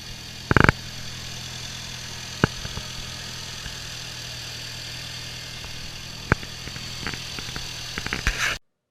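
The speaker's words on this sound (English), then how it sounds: "While the engine is running" A 2004 Mini Cooper engine idles with a steady, low hum throughout, with a few sharp knocks and clicks breaking in near the start and toward the end.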